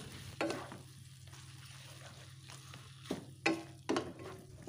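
Soft frying sizzle runs under a few scraping stirs of a spatula through noodles in a pan, with clattering bursts now and then.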